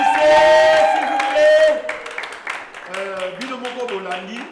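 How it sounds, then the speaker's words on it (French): Wedding guests applaud in a loose, scattered patter while a voice talks prominently over them, the claps sharp and irregular, continuing faintly as the voice goes on. "Sous vos applaudissements bien sûr."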